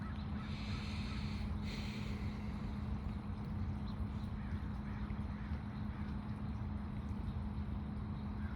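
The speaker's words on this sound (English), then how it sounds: "I haven't been haunted by crows like this." Crows caw outdoors, a few calls clustered in the first two seconds, then fainter, over a steady low droning hum throughout.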